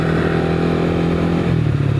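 A Yamaha Lexi 155cc scooter built for road racing revs hard nearby, its engine a loud, steady buzzing drone that rises slightly in pitch.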